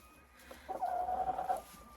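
Egg-laying hens of a pure laying breed give a short burst of clucking, a brief run of close, fairly loud calls lasting under a second.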